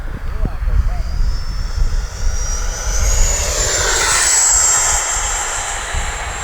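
An FMS F-86 Sabre 80mm RC electric ducted-fan jet makes a fast into-the-wind fly-by pass: a rising turbine-like whine swells to a near peak around the middle and fades, over steady wind rumble with brief talk early on.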